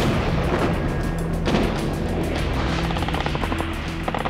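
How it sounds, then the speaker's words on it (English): Heavy artillery bombardment during a World War II Pacific invasion, a dense, continuous rumble of booming gunfire and blasts layered with engine-like drone, loud throughout with no pauses. "First, the heavy bombardment."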